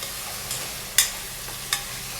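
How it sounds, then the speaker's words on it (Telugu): Onion and curry leaves fry in hot oil with a steady close sizzle, broken by a few sharp stirring scrapes; no one speaks. "ఆనియన్ వేసిన తర్వాత ఆనియన్ అంతా కూడా గోల్డ్ కలర్ వచ్చేంత వరకు ఫ్రై"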